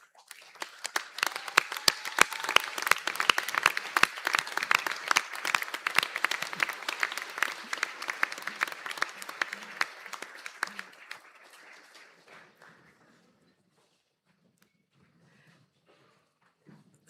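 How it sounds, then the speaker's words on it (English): Graduates at a conferring ceremony applaud their supporters, a dense, loud round of clapping filling a hall that holds steady for about eleven seconds, then tapers off into quiet with a few scattered late claps. "give them a well-earned round of applause as well"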